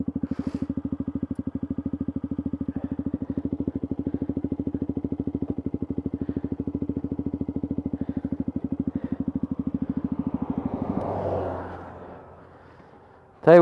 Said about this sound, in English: Your bike does not like short shifting.